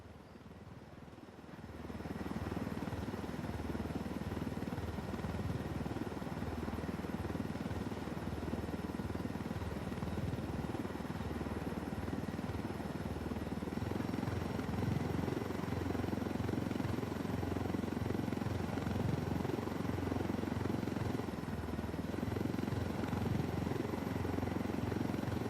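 A helicopter in the Ghost Recon Wildlands video game starts up and settles into a steady droning engine and rotor hum, continuous and moderately loud for the rest of the stretch, with no talking.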